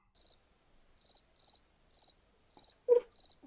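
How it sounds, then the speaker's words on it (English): Crickets chirp at night in short, evenly spaced pulsing trills, repeating roughly every half second against near silence. A single soft low thump sounds near the end. "You hear the crickets?"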